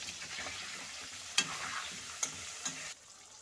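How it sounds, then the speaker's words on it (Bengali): Potatoes frying in oil in a pan for a chicken and potato kosha, a steady close sizzle broken by a few sharp stirring clacks before the hiss drops lower at the end. "আলুটা ভাজা হয়ে গেছে"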